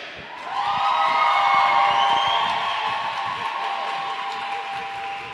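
A roller derby crowd at a Team Argentina versus Australia bout cheers and whoops in a sustained, loud swell that rises quickly and then holds steady with a slight fade across the arena.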